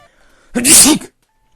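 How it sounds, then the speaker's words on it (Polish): A single loud, close human sneeze bursts out sharply and ends quickly, with near silence before and after. "To kichnięcie wyedytuję."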